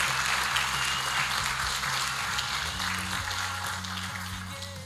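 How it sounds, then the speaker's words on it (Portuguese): Congregation applauding during a church service, a steady wash of clapping carrying on throughout, with a low sustained tone, likely organ or keyboard, humming underneath. "Você pode aplaudir o Senhor?"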